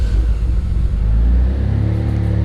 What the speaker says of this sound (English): I'm feathering the throttle to get it to start, but it's starting.